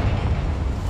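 Confringo spell explosion in Hogwarts Legacy, a deep rumbling boom with heavy low-end weight that fills the whole short moment at close range and stays loud without tailing off.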